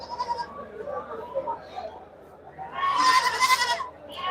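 Goats and sheep bleating at a busy livestock market, several wavering cries close by, one loud burst rising over a steady crowd murmur with people talking throughout.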